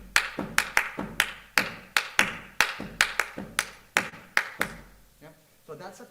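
Sharp hand claps beat out a Brazilian bell pattern, a repeating irregular rhythm of about twenty close, crisp claps that stops near the end, followed by soft talk.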